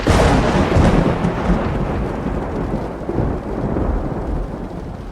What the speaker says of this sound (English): a deafening clap of thunder rattled the windows